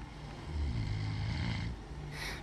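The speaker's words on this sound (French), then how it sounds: "Lorsqu'il faisait semblant de ronfler" A man fakes snoring as a storytelling sound effect, one long rasping, rumbling inhale-exhale held for a couple of seconds, close and fairly loud, ending with a breathy hiss.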